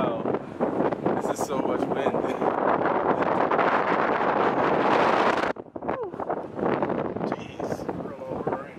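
Cold wind blowing hard outdoors at a scenic overlook, loud rough buffeting against the microphone that drops out briefly near the middle, with a voice faintly present under it.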